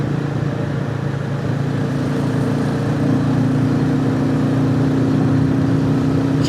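Royal Enfield Classic 350 motorcycle on trail tyres being ridden, a steady mid-pitched engine drone with wind noise, even and continuous throughout.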